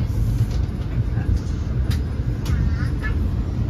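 A KRL commuter train passes on the adjacent track near Cikarang, heard from inside a moving long-distance passenger train, with a continuous loud rumble and rail noise throughout and no break.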